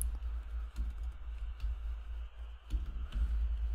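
Computer keyboard typing during an Android programming session, a steady run of soft, close key clicks over a low background hum with no talk.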